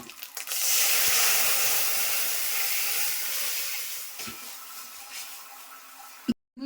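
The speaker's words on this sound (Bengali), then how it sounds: "এখন ডালটা ঢেলে দিচ্ছি" Mung dal poured into a hot pan, giving a loud, sustained steamy sizzle and hiss that gradually settles over several seconds, ending with a sharp clatter.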